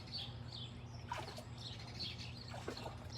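Small birds, among them a robin and swallows, chirp and tweet at dusk, their short high calls scattered and fairly faint over a quiet background hum, with a few brief rustles like wing flaps.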